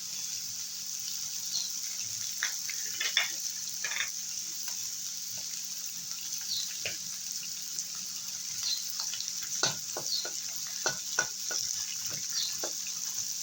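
Chopped garlic and bitter gourd frying in a pan, a steady soft sizzle with scattered clicks and scrapes of stirring throughout, fairly quiet and with no talk.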